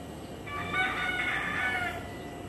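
A rooster crows once in a drawn-out call against quiet background noise, moderately close, with no talk.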